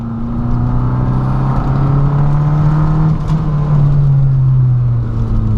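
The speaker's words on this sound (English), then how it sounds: "just listen to how this thing sounds when you get on it" A Saab 900 Turbo four-cylinder engine pulls hard under acceleration, heard from inside the car as a loud, steady drone whose pitch climbs and holds, with no talking.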